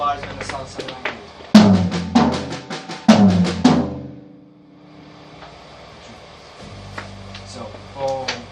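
A drum kit plays the second bar of a groove at a drum academy master class, with two loud, rapid bursts of close hits and cymbal wash, then a quieter stretch with softer strokes toward the end.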